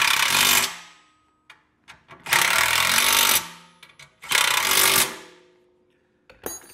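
A power tool rattles in three loud bursts, each about a second long, as it tightens nuts during hand truck assembly. Short taps and quiet gaps come between the bursts.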